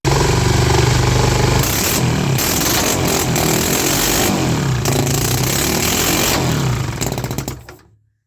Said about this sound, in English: Now that's a good sounding engine, isn't it?